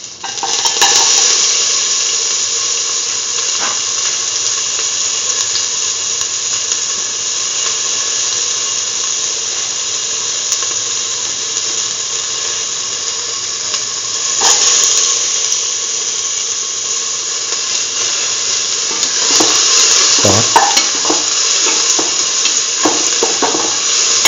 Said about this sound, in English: Now put in the onion pieces.